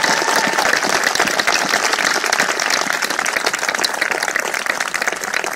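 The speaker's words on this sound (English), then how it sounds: "One more round of applause for them." A sustained round of dense, loud applause from a large crowd at a US Air Force basic military training graduation ceremony, with steady clapping and no talk over it.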